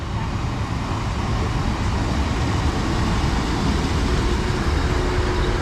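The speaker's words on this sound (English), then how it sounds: "Okay, 2 trains arriving and they're both 150s." Broad, steady rumble of two British Rail Class 150 diesel trains arriving at a station on the Rhymney Line, continuous low engine and wheel noise with no distinct horn, fairly loud throughout.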